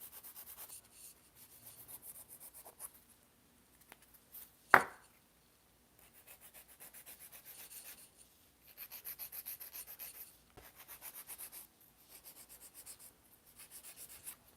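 Steady, raspy scraping as a file works across short pink-and-white ombré acrylic nails from sidewall to sidewall, coming in close, soft rhythmic bursts of strokes with one sharp louder tap partway through; no talking.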